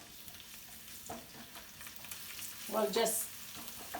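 Ginger and garlic frying in a pan for a shrimp dish, a low steady sizzle with a stir and a brief louder scrape; a voice speaks briefly over it.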